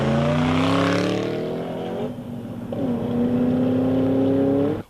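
A Glidden Outlaw race car engine screams at high revs, loud and close, dipping briefly before climbing again to a sustained high-pitched roar.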